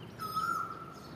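An Asian koel calls once in a garden, a single clear, sustained high note lasting about half a second over a soft, steady background hum.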